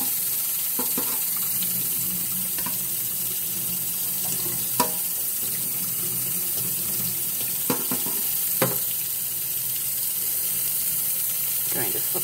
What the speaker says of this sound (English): So I'm just gonna throw them into a little sifter, like that. Take a few at a time and just rinse them.